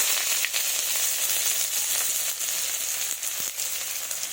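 Chopped onion with garlic sizzles steadily in hot oil with whole spices for a duck egg curry. The frying is close and continuous, with small pops and no talking.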